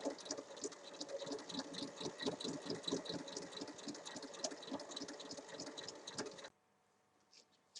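A sewing machine stitches fabric pieces of a tote bag together with a fast, even mechanical whirr and rapid needle patter, running steadily up close before stopping abruptly into near silence.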